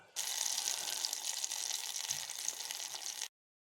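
Hot tempering of lentils, mustard seeds, dried red chilli and curry leaves poured into horse gram chutney, a steady loud crackling sizzle lasting about three seconds before stopping abruptly.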